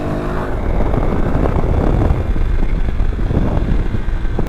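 A Suzuki DRZ400SM motorcycle ridden in fourth gear roars steadily up close, its engine drone mixed with heavy wind rush across the whole stretch, with no talk.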